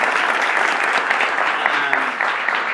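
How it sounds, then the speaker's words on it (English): Listeners at a speaker-series talk break into warm, continuous applause for the guest, a steady close wash of clapping for a few seconds. "Let's give John a round of applause."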